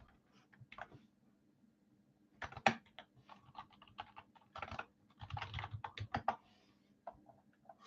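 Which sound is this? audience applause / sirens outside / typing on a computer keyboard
typing on a computer keyboard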